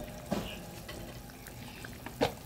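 A spoon stirring shing fish curry with potatoes and cumin powder in a pan. A low simmering sizzle runs throughout, broken by two louder close scrapes at the start and near the end.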